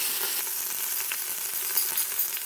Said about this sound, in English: so I'm going to sear this, like I said, on all sides